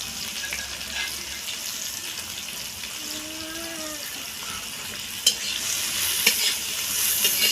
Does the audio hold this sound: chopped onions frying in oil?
yes